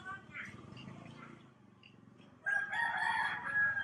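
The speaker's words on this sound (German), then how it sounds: "Man kann einen Hahn hören." A rooster crows at a distance in the second half, a drawn-out call rising over nearby talking voices, in Indonesia.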